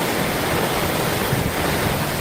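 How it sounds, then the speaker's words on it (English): Strong wind buffets steadily with a broad, roaring rush, loud and constant, with a deep rumble underneath. "Oh, it's so windy."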